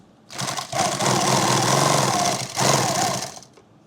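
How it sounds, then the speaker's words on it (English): A sewing machine stitching a laptop bag runs in two close bursts, a long whirring run and then a shorter one, with a rapid mechanical needle chatter up close. "I'm going to come back to this corner, sew right across here."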